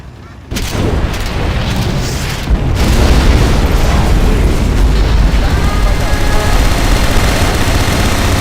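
A nuclear missile strike in the real-time strategy game Command & Conquer Generals lands as a heavy booming blast, followed by a long, dense rumble of explosions and battle noise.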